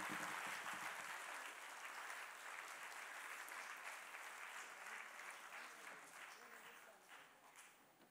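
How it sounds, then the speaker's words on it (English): A large audience at a women's cancer charity event gives a sustained, full round of applause, dense clapping that holds steady and slowly thins toward the end. "She deserves it, and the loudest round of applause,"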